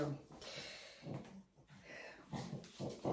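A pet dog snorts, breathes and whimpers close by in short irregular bursts, mixed with someone talking in a room.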